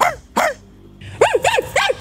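A person mimics a dog barking, giving a few short, loud voiced barks: two quick ones, a brief pause, then three rhythmic barks close to the listener.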